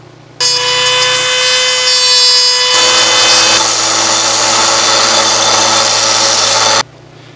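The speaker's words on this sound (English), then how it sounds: "sanding and more cutting will have to be required. So I'm going to start doing that." A power tool whirs loudly and steadily for several seconds, shifting to a rougher grinding tone midway, while sanding and cutting a homemade lightsaber escutcheon. It starts and stops abruptly.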